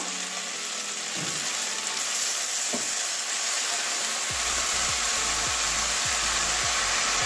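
Washed data greens tossed into a frying pan with eggplant and potato: a loud, even sizzle fills the air, then a run of rhythmic spatula strokes and scrapes follows close by. Nobody talks.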